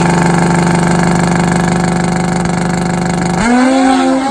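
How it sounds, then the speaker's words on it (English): Top Gas drag racing motorcycles, a no-bar bike and a wheelie-bar bike, roar loudly with engines at high revs, then the pitch abruptly drops and a single engine note rises as they launch down the quarter-mile strip. "Doug Fisher, Taylor Glick, the no bar bike and the wheelie bar bike."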